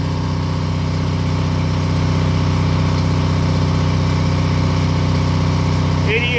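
An Onan generator set runs unloaded about five feet from its muffler, a steady, loud low idle hum with constant harmonics throughout, and a brief higher tonal chirp near the end.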